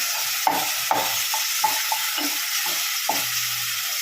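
Tomatoes and onions sauté in a pan with a soft background sizzle and a series of sharp spoon-against-pan scrapes and taps at irregular intervals, close and clear.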